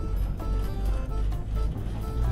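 A damaged car scrapes as it drives, a continuous low grinding rumble with uneven surges running steadily throughout, fairly close and moderately loud.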